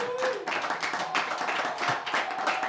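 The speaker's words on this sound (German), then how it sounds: "Das ist auch mal ein Applaus wert" Steady applause from a late-night talk show audience, dense clapping that holds evenly throughout with no pauses.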